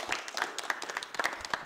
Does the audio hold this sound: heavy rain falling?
no